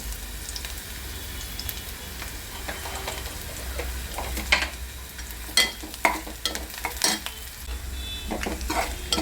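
Cumin seeds sizzling in hot oil in a pan while capsicum cooks, a steady frying hiss close by with intermittent scraping and stirring clinks of a utensil against the pan.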